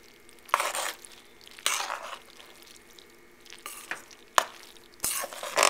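Macaroni being stirred with melted butter into a cheese mix, several separate bursts of wet, squelching stirring and faint utensil scrapes close up against quiet.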